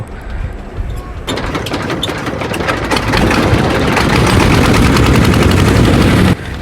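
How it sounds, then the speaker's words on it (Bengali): A small trawler boat's engine on the Padma river starts up with loud, rapid mechanical chugging, rising and settling into a steady, dense knocking run that stops abruptly near the end. "তো ইঞ্জিন স্টার্ট নেওয়ার পর আলহামদুলিল্লাহ আমরা আবার রওনা দিলাম"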